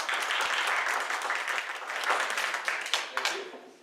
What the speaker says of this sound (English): let's give a round of applause to Dave and Joanne